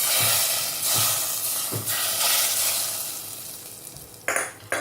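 Hot oil sizzles loudly as spiced dal is poured in, with bursts of frying hiss and a few stirring clatters near the end.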